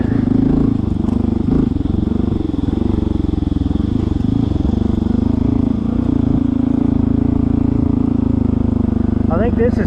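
A Honda CT 125 motorcycle pulls along in second gear, its steady engine drone and wind rush loud and close throughout, with a rider talking over it.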